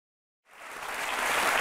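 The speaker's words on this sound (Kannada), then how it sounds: "ಚಪ್ಪಾಳೆ." Broadband clapping rises out of silence and swells into sustained applause from a crowd, steady and fairly loud with no voices over it.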